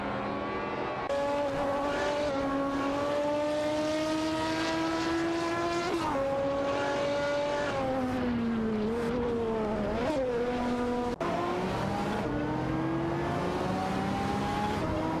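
Race cars in an AI racing video game, including a Maserati MC12 and a McLaren F1 GT, loud continuous high-revving engines that whine up and down through gear changes, one car close and dominant, with no talk.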